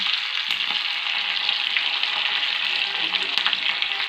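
Mustard seeds, cumin, curry leaves and chillies sizzle in hot oil for a dhokla tempering, a close, steady frying crackle with scattered sharp pops throughout; nobody talks.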